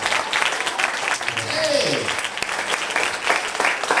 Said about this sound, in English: Get ready with your thunderous applause because this is the grand finale